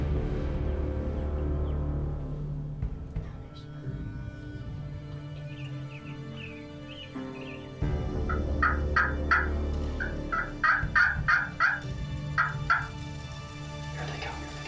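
Wild turkeys, including a hen, gobble in a rapid series of bursts, louder toward the end, over a low background rumble with some quiet talking.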